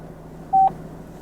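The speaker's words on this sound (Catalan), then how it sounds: "Estem trucant Conectándose a OnStar." A single short dialing tone beeps once from the OnStar system in a 2016 Opel Astra Dynamic, clear and brief against a quiet cabin hum.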